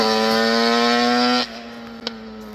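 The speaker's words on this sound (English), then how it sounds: "we're going to ride the Daytona 400. Here we go." A Yamaha RD400 Daytona Special two-stroke motorcycle, choke on, holds a loud steady idle, then the engine note drops abruptly to a lower, quieter drone with a brief knock near the end.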